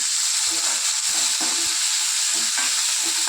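Onion and tomato frying in a pan for rice rava upma, a steady close sizzle with soft stirring scrapes and clinks throughout.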